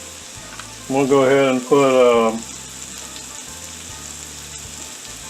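Onions fry in a pan for a cheesesteak with a steady, close sizzle throughout; a voice speaks briefly over it near the start.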